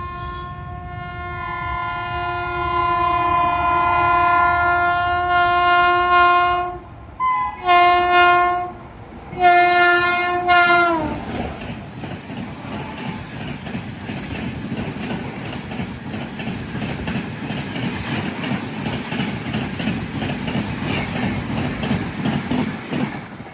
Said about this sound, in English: Check out the 12008 Mysuru, Chennai, Shatabdi Express, skipping hoodie halt at flat 130 KMPH.